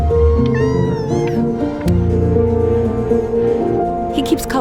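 A house cat meows loudly and close, a few drawn-out wavering calls with a caterwauling edge, over a busy background with some tonal hum and a short clatter.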